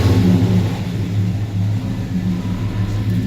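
A 1972 Chevrolet Monte Carlo engine with dual exhaust rumbles through a throttle blip, a loud, close, low growl that swells and eases with engine speed and carries no voices.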